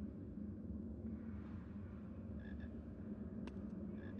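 Frogs croak faintly in a Harry Potter video game, a few soft chirping calls rising over a dense low ambient rumble.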